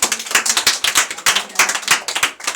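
A church congregation claps in praise during a service, with quick, fairly regular handclaps close and loud, forming a continuous rhythmic patter with no voices on top.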